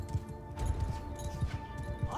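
Hooves of horse archers' mounts in the video game Bannerlord beat out a quick, regular clip-clop at moderate distance, with a voice talking over them.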